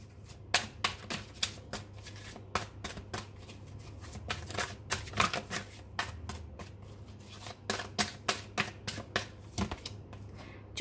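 Tarot cards are shuffled and drawn, making crisp riffling and snapping flicks that come in quick irregular bursts. The sounds are close and fairly quiet, with faint background hum and no talk.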